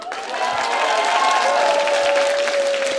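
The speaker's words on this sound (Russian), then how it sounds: "Эти аплодисменты тебе" Studio audience at a comedy show applauding loudly and steadily for about three seconds, a dense wash of clapping with a sustained sung or held tone running beneath it.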